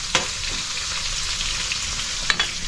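Food sautés in a hot pan with a steady loud sizzle and frying hiss, a couple of sharp stirring clinks standing out near the start and end, no voices.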